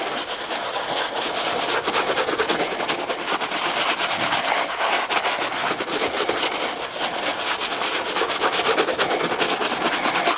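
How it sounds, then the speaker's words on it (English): Golf shoes scrubbed clean with a brush after being soaked in cleaner, a dense, steady rubbing and bristle scratching close up, continuous and fairly loud with no talking. "So again, I'll take this and just kind of scrub them through."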